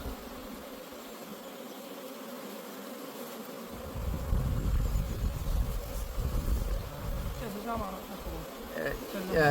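Honey bees buzz steadily at a beehive in a soft, continuous drone that swells louder midway, with faint voices talking in the background.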